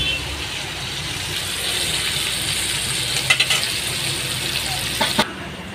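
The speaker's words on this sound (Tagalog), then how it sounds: "pinirito muna natin yung ating tilapia" Steady broadband sizzle of tilapia frying in a pan, with a few faint clinks partway through; no talking.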